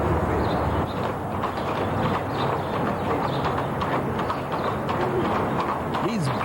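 Horses pull carriages on a Long Island driving club outing. Their hooves clop faintly and steadily under dense outdoor ambience, with a voice and bird calls mixed in.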